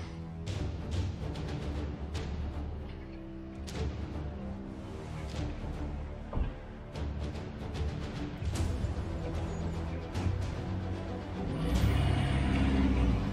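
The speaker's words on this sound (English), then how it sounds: "Just see if you've got any traction at that before we open up the gate." A Land Rover Discovery 4 reverses to test its traction during a winch recovery, with a steady engine drone throughout that swells louder near the end, alongside intermittent knocks and clatter close by.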